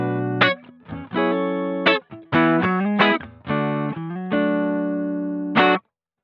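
Electric guitar run through a Boss ME-90 multi-effects unit on its X Crunch amp setting, dialed to a clean tone: a series of picked notes and chords ringing out with sustain and clear attacks, played alone, ending in a held chord that stops abruptly.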